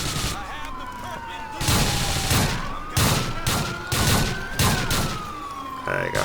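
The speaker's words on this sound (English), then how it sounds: "Let's try the shotgun." Shotgun fire in the video game GTA 4 during a police chase, several loud, evenly spaced blasts over a wailing police siren, with someone talking between the shots.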